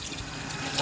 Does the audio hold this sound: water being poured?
yes